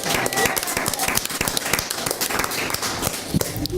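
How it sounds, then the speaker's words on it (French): Studio audience clapping welcomes the rapper Kenkel onto a French TV show, a dense steady patter of applause throughout with chatter mixed in. "Applaudissements."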